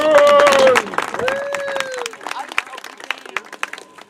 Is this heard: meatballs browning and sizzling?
no